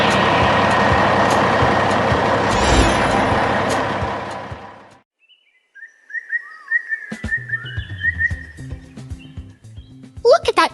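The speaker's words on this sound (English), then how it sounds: "that dump truck carries the town's future away" A heavy, loaded dump truck roars loudly and then fades out as it drives away. After a brief silence, faint chirps and whistles follow, along with scattered knocks.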